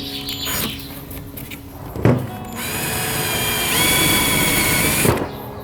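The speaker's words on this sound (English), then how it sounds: "So I just have to drill it in the middle until the little rivet cap comes off." A power drill bores out a rivet on a vintage caravan, whining up to a sustained high-pitched run after a few short bursts and clunks, loud and close.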